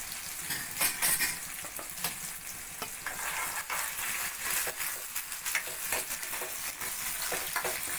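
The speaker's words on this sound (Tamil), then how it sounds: "கொஞ்சம் வெங்காயம் வதக்கிட்டுருங்க வெங்காயம் போடுறேங்க" Onions sautéing in oil in a pan for sambar rice, a close crackling sizzle broken by frequent scraping stirs of a spatula, fairly quiet, with no voices.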